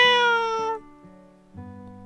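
A cat in the game Nameless: The One Thing You Must Recall gives a clear, close meow, followed by a shorter, quieter second call.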